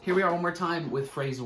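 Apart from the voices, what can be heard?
No everyday noises stand out.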